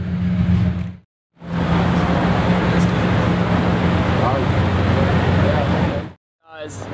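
Ferrari Daytona Spider, one of 122 built, running loud and close with a steady broad roar and engine drone, broken by two brief silent gaps, with excited voices over it.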